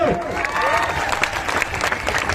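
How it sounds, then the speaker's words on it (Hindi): A crowd claps and cheers loudly, a dense burst of applause throughout the short moment. "एक बार जोरदार तालियां"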